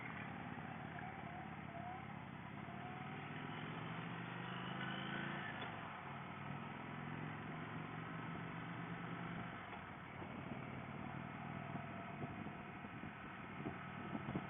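A 2017 Indian Vintage motorcycle rumbles steadily while riding, its engine drone mixed with heavy wind rush across the whole stretch and no clear gear changes.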